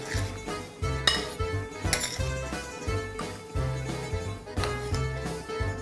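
Dishes and cutlery clink and scrape in a home kitchen as ravioli in porcini tomato sauce is plated, with repeated close knocks and rattles in an uneven rhythm and no talking.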